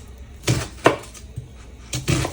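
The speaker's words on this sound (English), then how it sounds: "we're going to cut up the onion in small dices" Onion diced into small pieces on a cutting board with a knife, a few sharp chopping knocks spaced irregularly, close and clear, with no talking.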